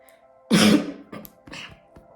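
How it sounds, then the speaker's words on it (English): A single harsh cough rings out up close, followed by a few smaller throat-clearing hacks, with no talking. "I apologize for the coughing"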